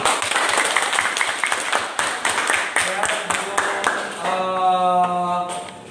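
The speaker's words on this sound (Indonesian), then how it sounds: "Tepuk tangan untuk kita semua." Classroom applause from students and teachers, a burst of quick, uneven clapping that thins out as voices start talking and a sustained tone rises near the end.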